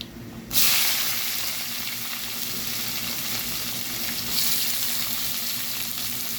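Cumin, fennel, cinnamon, cloves, dried red chillies and onions frying in a pan for chicken pepper fry, a loud steady sizzle that bursts in at the start and holds with faint stirring throughout.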